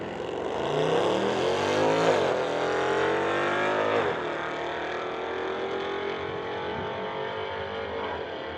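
Mercedes street car launching down a drag strip at a street-legal drag racing event, engine roaring loud and rising through gears, then fading steadily into the distance, with no talk over it.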